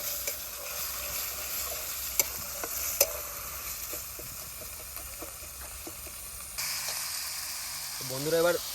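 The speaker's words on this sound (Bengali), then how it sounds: "বন্ধুরা তেল কিন্তু গরম হয়ে গেছে, এবার বেটে রাখা মশলাগুলো গরম তেলে দিয়ে দেবো।" Ground spice paste hisses and sizzles in hot oil during a forest picnic cook-up of chicken roast, a steady frying crackle with occasional stirring scrapes, brief faint voices near the end.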